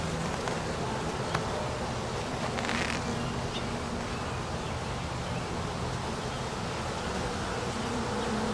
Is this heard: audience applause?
no